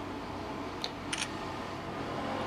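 Shutter clicks from an OPPO F1s smartphone camera taking a selfie panorama: a few faint, sharp clicks in quick succession over a steady background hiss.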